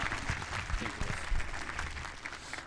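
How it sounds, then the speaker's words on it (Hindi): A church congregation at a convention in Kot Baray Khan claps for the pastor, a dense wash of many hands that stays steady and fairly close, with some voices mixed in. "मेहरबानी से पादरी साहब के लिए तालियां, जोरदार तालियां"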